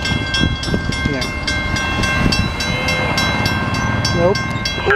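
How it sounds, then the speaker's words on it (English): A Norfolk Southern or CSX freight train rolls past in Marion, Ohio, close and loud, with a steady roar and rapid rhythmic clacking of wheels over rail joints for the whole stretch. "got a train right here"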